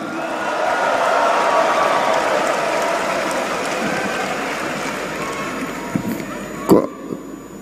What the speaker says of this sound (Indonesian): Kok tepuk tangan lebih gemuruh kalau Teddy ini